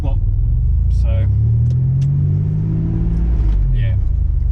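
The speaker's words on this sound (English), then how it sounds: "when it's idling, you can hear it just going pop, pop," A Nissan Navara's VG30 engine idles with a steady low rumble, occasional pops said to come from a hurt motor, under someone talking throughout.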